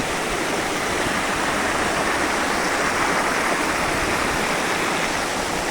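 A river near Alvand, Nashik, flowing toward the Vaitarna dam rushes loudly and continuously, a dense, close roar of churning, gurgling water with no pauses and no voices.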